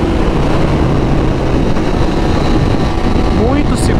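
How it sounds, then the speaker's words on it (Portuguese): A KTM 390 Duke single-cylinder motorcycle runs under way, its loud steady engine drone mixed with wind rush that stays constant throughout. "E gira bem, viu? Por ser um monocilíndrico."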